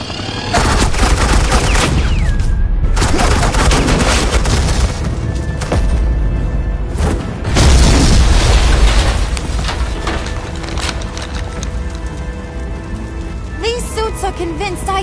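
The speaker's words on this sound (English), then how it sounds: "Suppressing fire." Suppressing gunfire and explosions in a Batman game, loud and sustained bursts of shots and booms that roll on for the whole stretch, with brief voices mixed in.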